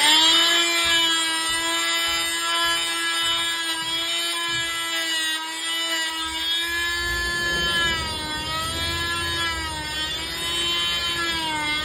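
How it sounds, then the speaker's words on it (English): A drill fitted with a wood bit bores into an ICF (insulated concrete form) foam wall, giving a steady high-pitched whine that holds for the whole stretch, loud and close, with no talking. "I'm using just a wood bit because you don't need anything that strong."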